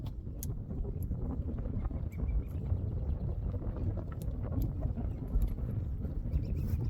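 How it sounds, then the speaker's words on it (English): Low, rumbling wind buffets the microphone continuously at an outdoor shooting session, a dense roaring noise with faint scattered clicks and no clear voices. "I hope you can hear with the wind."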